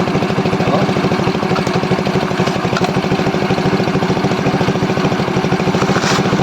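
A Honda motorcycle engine, revived after two years of being abandoned, idles loudly and close by with a fast, even, chugging pulse that stays steady throughout.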